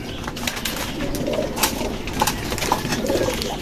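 Pigeons cooing steadily in a loft, soft repeated low coos over a continuous noisy background, with several birds audible at once and no talking.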